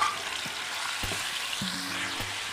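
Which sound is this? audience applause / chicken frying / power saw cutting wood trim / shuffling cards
chicken frying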